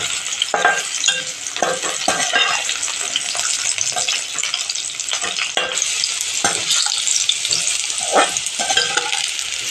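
Bitter gourd slices fry in hot oil in a pan, with a constant loud sizzle and repeated scraping clatter of a spoon stirring them close up, and no voices.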